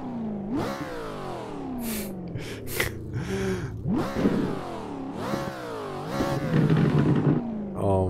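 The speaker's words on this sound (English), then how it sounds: "It revs up so quick. I believe this is a naturally aspirated engine, if you can believe that." A naturally aspirated V8 in the 1007hp VDC F22 Eurofighter car revs repeatedly, with several sharp climbing blips and falling returns to idle, loud and close, with no talk over it.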